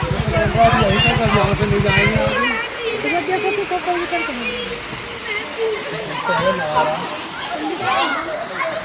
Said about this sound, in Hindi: ये हमें देहरादून जाते हुए जॉर्ज एवरेस्ट से हमें मिला एक छोटा सा वाटरफॉल।